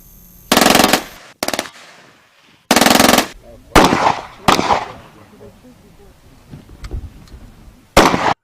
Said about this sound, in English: The sound of gunshot which rent the air in the first day of the 2-day range event